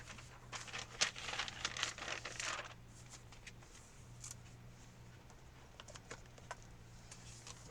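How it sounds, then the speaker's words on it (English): Pen scratching and tapping on paper while keywords are jotted down, a busy cluster of close, soft scrapes in the first few seconds, then scattered light ticks over a quiet room hum. "let me just write these keywords down"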